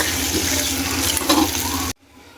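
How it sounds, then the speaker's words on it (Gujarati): Water poured into a pan of boiled-potato curry with gravy, a steady, close rushing pour that cuts off abruptly near the end, leaving quiet. "પછી આપણે થોડુંક નાખશું પાણી"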